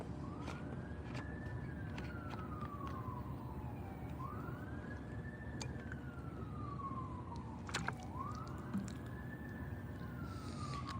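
Police sirens wail outside in a repeating rising-and-falling sweep, three long cycles over a steady loud rumble of background noise, with no talking.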